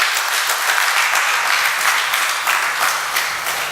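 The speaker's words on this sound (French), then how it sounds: "Wir applausen den Herrn." A congregation claps steadily in applause for the Lord at a church service, a dense, continuous wash of many hands, loud and sustained throughout.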